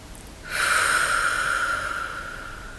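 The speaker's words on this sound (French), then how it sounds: "Prenez une grande respiration." A single deep breath drawn in through the nose, a steady breathy hiss that rises after a brief pause and holds for about two seconds, close and fairly quiet with no talking.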